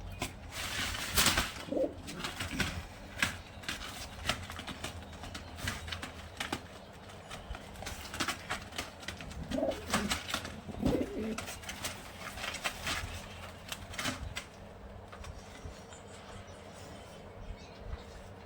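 Pigeons suffering from paralysis coo softly and intermittently in a quiet setting, their low calls faint against a steady background rumble.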